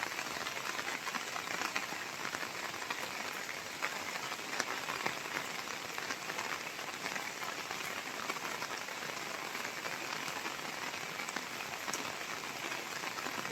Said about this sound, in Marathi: पाऊस बघा जोराचा आहे मित्रांनो